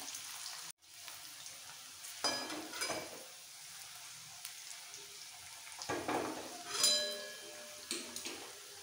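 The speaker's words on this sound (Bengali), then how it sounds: "এই কটা এখন ভেজে নেব।" Bitter gourd (korola) chips frying in oil over a medium-low flame, a steady close sizzle with a few louder bursts as pieces are moved, no talking.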